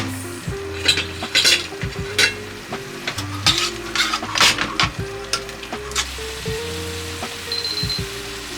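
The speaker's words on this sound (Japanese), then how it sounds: "そこでまたソースの方に、火をつけていって温めていきます" Bolognese sauce reheating in a pan, sizzling steadily while a spoon or spatula stirs and scrapes in repeated bursts of clatter, close and fairly loud, with a brief high electronic beep near the end.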